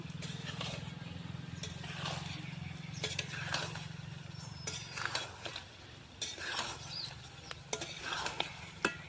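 Chicken curry for kosha is stirred and mixed in a pan, with repeated scraping and clattering strokes over a low steady hum and faint sizzling throughout.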